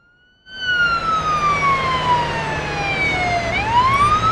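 Ambulance siren starting abruptly and wailing in one long falling sweep before swinging upward again, loud and close over a low engine drone, with no voices.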